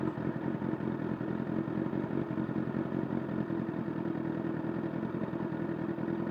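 A 2011 Honda CBR1000RR Repsol Fireblade with a Black Widow exhaust, link pipe and Delkevic headers runs at a steady, close, low rumbling idle with faint mechanical clatter and no distinct rev peaks.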